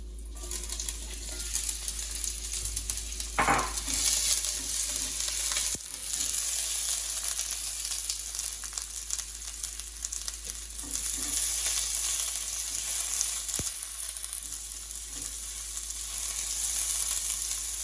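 Half an onion fries in about two tablespoons of oil in a hot skillet, giving a constant close sizzle with faint crackles and an occasional stir or utensil tap, no voices.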